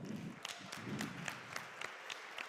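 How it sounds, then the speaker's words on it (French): Scattered, thin applause from a small audience at a gaming tournament, a few distinct claps and taps over a low murmur, fairly quiet and sparse. "On peut les applaudir encore une fois"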